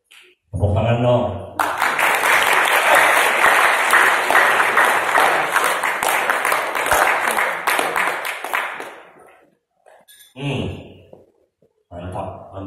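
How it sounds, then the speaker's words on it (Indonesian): An audience at a motivational talk breaks into loud, sustained clapping for about eight seconds, then fades out, and brief speech follows. "Tepuk tangan dong."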